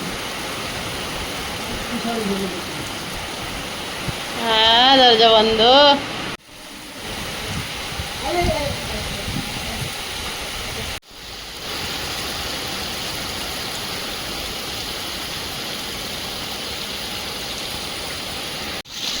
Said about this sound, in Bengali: কি জোর বৃষ্টিটা এসছে দেখো